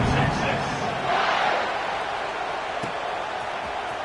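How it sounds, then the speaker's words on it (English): A football stadium crowd buzzes right after a score, a dense, steady roar of many voices that swells slightly early on, while a commentator talks over it. "this crowd is buzzing after that last score"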